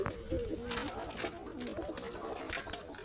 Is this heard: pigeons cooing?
yes